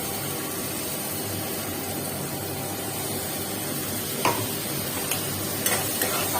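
Fish spice paste with onion and tomato frying in a pan, a steady close hissing sizzle that holds evenly throughout, with a few light taps of a utensil toward the end.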